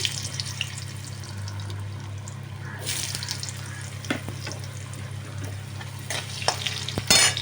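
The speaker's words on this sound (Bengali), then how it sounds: "আলুর সাথে সামান্য পরিমাণে হলুদ আর লবণ দিয়ে আলুটা ভাজা ভাজা হচ্ছে" Potatoes with turmeric, salt and whole spices such as cardamom fry in a pan, a continuous close sizzle with scraping stirs and a few sharp clatters of the utensil.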